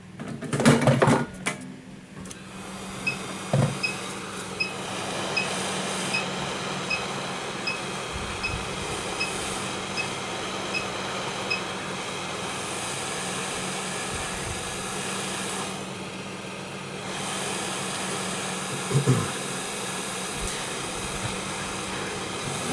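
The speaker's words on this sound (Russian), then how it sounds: "нагреваем крышку" A tool heating the back cover of a Samsung Galaxy S7 during a repair gives a steady airy blowing hum with a faint whine that runs throughout, broken by a few small clicks and handling knocks.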